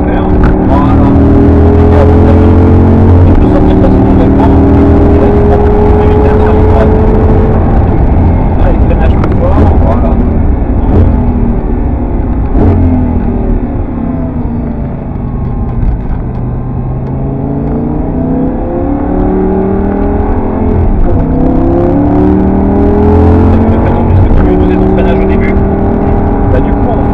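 Audi R8 V10 race car accelerating hard around the Le Castellet circuit, heard from inside as a loud, continuous engine howl that climbs in pitch through the gears, easing briefly mid-lap before building again, with a person talking over it.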